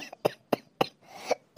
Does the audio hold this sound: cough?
yes